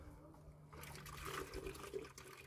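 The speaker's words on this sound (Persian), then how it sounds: "میخوام یه ذره آب بریزم رو" Water pouring and splashing in a quiet mountain home, a faint soft trickle that begins after a brief near-silence and runs unevenly to the end.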